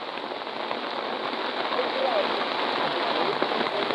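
Heavy monsoon rain pours down on a village with a dense, steady roar of falling water and running runoff, close and unbroken throughout, with voices faintly underneath.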